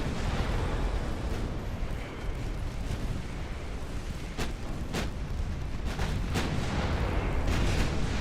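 Warship gunfire in the naval game Ultimate Admiral Dreadnoughts: a heavy continuous roar of battle with several sharp, distinct cannon cracks standing out in its second half, loud and sustained.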